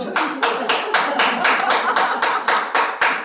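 A group at a religious lecture claps in unison, with sharp, evenly spaced beats about every quarter second sounding close and loud throughout.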